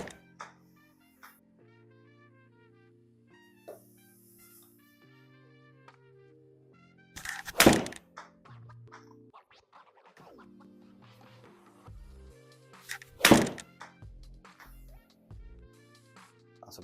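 Two sharp, loud strikes of a Ben Hogan M50-01 iron hitting golf balls, a few seconds apart, each a crisp crack over quiet outdoor background with faint musical tones.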